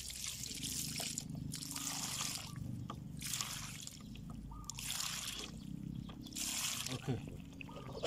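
Water is poured onto the rooting medium around a layered Allamanda shrub branch, a soft trickling that comes and goes in several short pours with a faint voice nearby.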